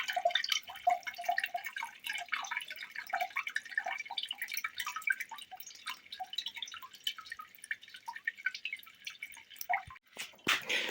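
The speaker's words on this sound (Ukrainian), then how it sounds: "Дивіться, з нього все капає." Juice drips steadily from freshly pressed Pinot Gris grape pomace, a quiet, rapid patter of small close drops that continues without pause and with no one speaking.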